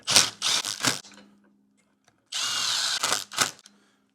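A power drill drives clutch kit bolts on a Can-Am Defender HD11 primary clutch, tightened in a cross pattern, in two loud close bursts separated by about a second of silence.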